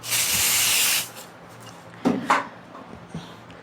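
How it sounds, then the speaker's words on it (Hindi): Hair spray sprayed onto styled wavy hair during a hairstyling session, one steady hiss lasting about a second, then quieter handling sounds with brief rustles and taps. "अब मैं यहाँ पे लूँगी अपनी हेयर स्प्रे और इसका यूज़ करूँगी इस पे।"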